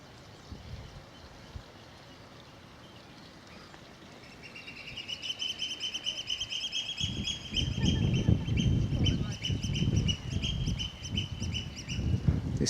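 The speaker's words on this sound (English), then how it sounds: "This channel echoes all the bird sounds, as you can hear. Some kind of gull, that I think." Gulls call repeatedly from a rocky sea channel, their cries ringing and echoing off the walls over steady surf and water noise that swells louder toward the end.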